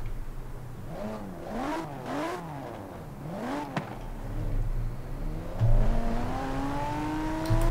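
A modified Range Rover Velar in Forza Horizon 4 revs up and down in several quick rising-and-falling pulls, then settles into a steady climbing engine tone as it accelerates, loud and close.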